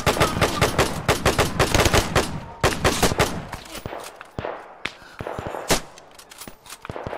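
Gunfire in a video game: dense, rapid machine-gun bursts rattle loudly at first, then thin out into scattered single shots and short volleys against a rumbling background.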